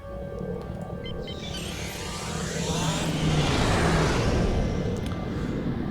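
Starship quantum slipstream travel in Star Trek Online, a steady broad whooshing engine roar that swells in the middle and holds loud, continuous with no talk.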